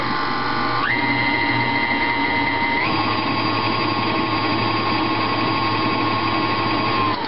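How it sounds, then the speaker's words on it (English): An electric mixer beating molasses, butter and sugar together in a bowl for gingerbread cookies: a loud, continuous motor whir that steps up in pitch twice as the speed rises, close and steady, with no talking. "mix the molasses and butter and sugar together until well incorporated"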